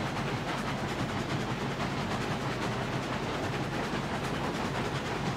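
Long train of six locomotives hauling twenty oil tanker cars rolls up a steep grade in the railroad game Railroads Online, a steady, dense rumble of wheels and rail noise with faint clatter, continuous throughout.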